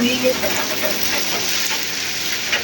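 Heavy rain pours down on a mud house in a Punjab village, a dense, steady hiss with scattered drops and patters, loud and close throughout.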